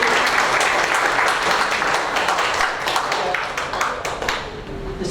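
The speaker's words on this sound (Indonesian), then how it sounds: "Tepuk tangan buat Pak Otto." Applause at an Indonesian seminar lecture, a dense burst of clapping from the audience that holds strong, then thins into scattered individual claps and fades toward the end.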